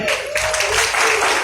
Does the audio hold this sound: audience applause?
yes